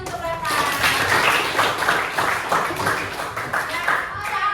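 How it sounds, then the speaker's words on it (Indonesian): A classroom of students clapping for a classmate, a brisk burst of many hands with a loose rhythmic pulse, close and fairly loud, with children's voices mixed in. "tepuk tangan untuk Revan."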